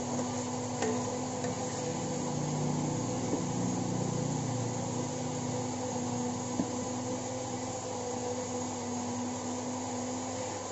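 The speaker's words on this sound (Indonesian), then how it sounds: "Tidak pakai air, kita blender pakai air santan." An electric blender grinds rendang spice paste with coconut milk instead of water, a steady motor whine with a constant hum, continuous and fairly close for the whole stretch, with no talking.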